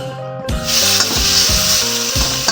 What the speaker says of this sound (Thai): รวนหมูสามชั้น ให้สุกดีๆก่อน